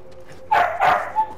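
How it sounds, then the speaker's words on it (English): A dog gives two quick, sharp barks close by, then a softer short yip, against a quiet background. "I may have used big brain, but my dog's gonna use big bark"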